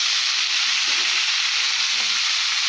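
Radish and potato pieces fry with fish in hot oil, a loud, constant, close sizzle with no pauses. Now and then the stirring shifts it slightly.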